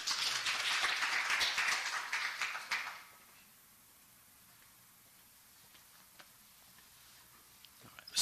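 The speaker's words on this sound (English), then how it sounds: "Big round of applause." Audience applause at a community meet-and-greet event, a dense burst of clapping that fades out after about three seconds into a quiet room with a few stray claps.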